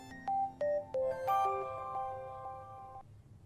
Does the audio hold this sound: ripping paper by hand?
no